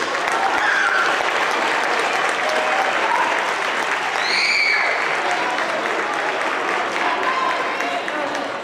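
Sustained applause from an audience at a 6th grade awards ceremony, a loud continuous wash of clapping for the award winners, with crowd voices and a brief whistle-like tone rising midway.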